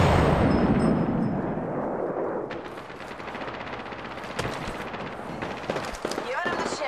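Gunfire in the battle-royale shooter Apex Legends: dense, continuous weapon fire and blasts dominate early, then thin into scattered cracks and impacts under game voice callouts.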